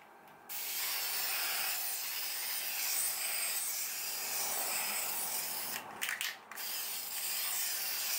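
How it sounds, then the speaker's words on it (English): A steady, close spray hiss of blue caliper paint runs continuously for several seconds, briefly pausing twice before resuming. "So I'm gonna spray this now with the blue paint."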